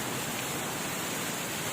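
Rain falls outdoors with some small hail, a dense, even hiss that stays constant and fairly faint through the short stretch, with no voices.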